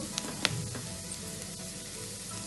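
Ragi roti fries in a pan with a soft, steady sizzle, close and fairly faint, broken by a couple of sharp clicks near the start.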